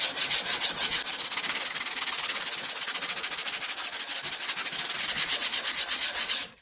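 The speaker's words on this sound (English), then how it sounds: "Take it on down to the sandpaper." Steady back-and-forth rasp of sandpaper on the wooden stock of a .50 caliber St. Louis Hawken rifle, loud and close, with quick regular strokes running continuously and no talking.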